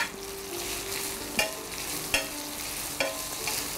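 Finely chopped onions frying in a pan on the stove, a soft continuous sizzle broken by three sharp clinks of a spoon stirring against the pan, close and with no one talking.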